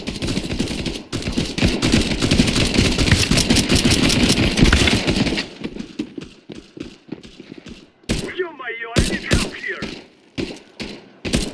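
Counter Strike 2 gunfire: dense sustained automatic bursts at first, then breaking into separate rapid shots and short volleys with gaps between them, loud and close.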